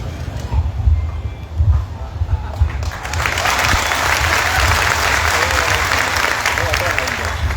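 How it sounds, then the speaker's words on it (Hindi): Loud, sustained applause from a crowd of farmers at an outdoor rally in Jetpur, swelling after about three seconds into a dense steady roar that carries on to the end. "जोरदार तालियों के साथ।"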